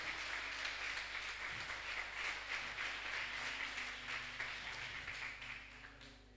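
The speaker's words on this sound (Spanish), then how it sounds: "dê uma ofrenda de aplauso a esse Deus de abundância" A church congregation claps in a steady, sustained round of applause that sounds somewhat distant and room-filled, faint low hum underneath, fading slightly at the end.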